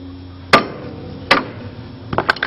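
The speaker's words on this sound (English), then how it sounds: "it's a good whack with a hammer. And I whack it hard" Sharp metallic hammer blows ring out against a pressed-in car ball joint, two spaced strikes followed by a quick cluster of three or four harder whacks, close and loud.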